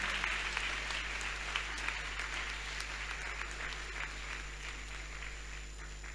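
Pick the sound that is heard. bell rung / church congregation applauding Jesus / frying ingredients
church congregation applauding Jesus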